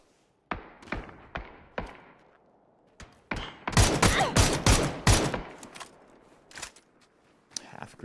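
P90 gunfire in PUBG, a few spaced single shots followed by a dense, loud automatic burst of about two seconds, then scattered bursts, heard close with faint talk in between.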